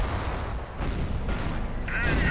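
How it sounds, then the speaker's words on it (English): Artillery fire in a World War II strategy game, dull booming blasts and rumbling impacts mixed with game noise, ending in a brighter whistling shot, with a commentator talking over it. "Artillery being leveled against the Knight's Cross"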